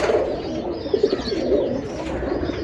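Pigeons cooing in a loft during a pigeon visit in India, with a steady layer of soft, low, rolling coos overlapping continuously at close range.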